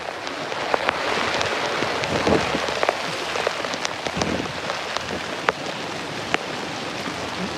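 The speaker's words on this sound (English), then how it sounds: "Just to show you the extent of the rainfall." Heavy rain pours steadily onto a roof during a thunderstorm, a dense, continuous hiss close by with scattered sharper drops pattering through it; no distinct thunderclap stands out.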